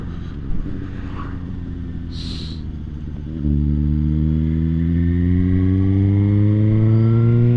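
A Suzuki GSX-S750 motorcycle hums steadily at a low cruise, then its engine and exhaust swell into a deeper, louder drone. The rising harmonic tone marks acceleration while riding, and no one talks over it.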